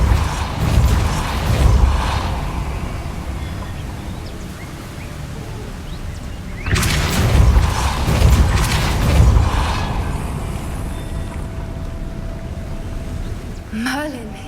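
In the video game Hogwarts Legacy, a Depulso spell pushes a mechanism into motion. A loud grinding, creaking rumble swells midway and fades, and a rising magical chime sounds at the end over a low ambient hum.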